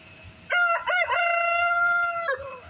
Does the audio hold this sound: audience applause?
no